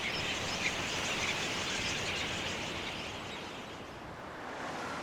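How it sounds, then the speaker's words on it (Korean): Migratory birds calling across a wetland, a dense chorus of chirps and calls spread over steady broad background noise, distant and continuous throughout. "해마다 어김없이 찾아오는 철새들."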